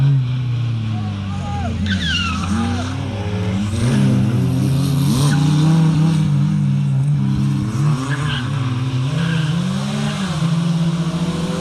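A rare Group B Citroen Visa rally car with a 1.4-litre four-cylinder engine revs and accelerates at a rally festival, its engine note rising and falling in repeated sweeps, loud and close, with crowd chatter and other voices underneath.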